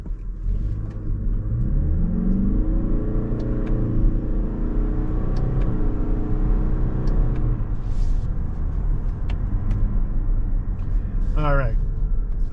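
A 2025 Toyota Crown Signia Limited with a CVT and simulated gear shifts drones steadily from inside the cabin, its engine rising and falling through stepped downshifts as a voice talks over the rumble.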